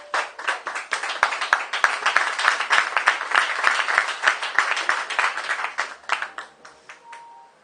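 A church congregation claps in acclaim of the word of God, a lively burst of many hands with some rhythmic accents, building then tapering off over about seven seconds.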